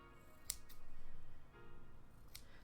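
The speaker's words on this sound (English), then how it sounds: "Makes such a good cutting noise." Scissors trim soft felt for a crochet amigurumi figure, giving a couple of quiet, close snips against a faint, hushed background.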